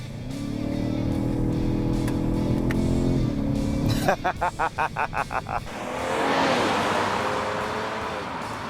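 A 2017 Ford Fusion V6 Sport sedan's engine hums and revs under steady acceleration, shifts gears, then settles into rushing road and wind noise inside the cabin.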